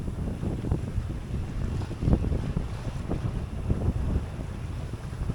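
Steady 20-knot wind roars across a sailboat's microphone at sea, a dense continuous rumble with gusty swells and water noise beneath, no voices.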